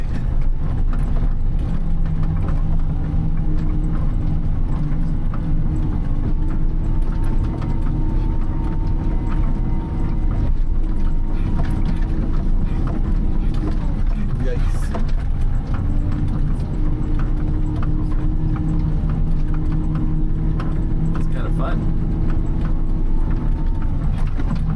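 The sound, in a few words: tractor loader moving snow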